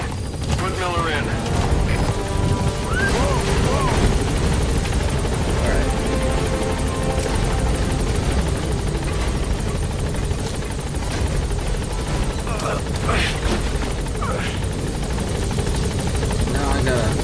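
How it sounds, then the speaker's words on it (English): A helicopter's rotor drones loud and steady throughout in the video game Metal Gear Solid V, with voices talking and occasional sharp effects layered over the constant whir. "Now I gotta move the chopper."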